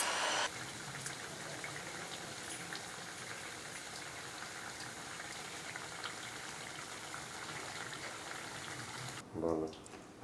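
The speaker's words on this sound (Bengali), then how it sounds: "আর 5 মিনিট ফুটিয়ে নিয়ে তারপরে নামিয়ে ফেলবো।" Fish curry boiling in a pot gives a steady bubbling, hissing simmer that runs evenly throughout, briefly broken near the end by a short clatter.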